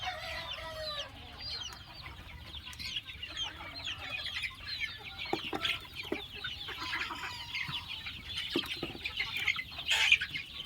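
Chickens, some of them small, cluck and chirp on a farm, a busy flock of overlapping calls near and far with occasional louder squawks, no talk.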